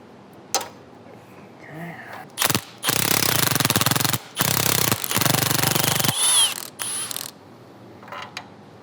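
A ratchet wrench works loose a 14mm heat shield bolt behind the downpipe of a 2015-2021 Subaru WRX with the FA20F engine, giving several loud, close bursts of rapid clicking separated by short pauses.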